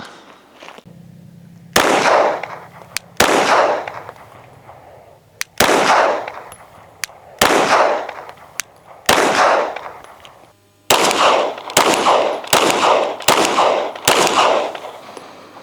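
Rifle fitted with a Radian Ramjet and Afterburner fired about a dozen times. Each loud, sharp report is followed by a ringing echo tail, first in spaced shots and then in a quicker closing string, with no talking.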